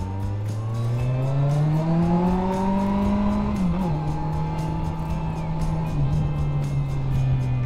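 Kawasaki GTR 1400 motorcycle engine revving hard on an open road in Slovenia, its pitch rising steadily for several seconds then easing into a loud sustained drone, close and continuous.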